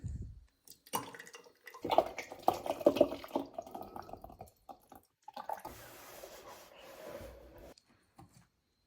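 Liquid made from green luffa pulp is poured into a container in bursts, with uneven splashing and trickling and brief pauses between pours, close by and fairly quiet.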